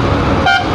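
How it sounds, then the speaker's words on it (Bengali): A car horn sounds on a highway, a short loud toot rising over steady close traffic and road noise. "ও তো হর্ন মেরে ওভারটেক করার কি আছে তোর"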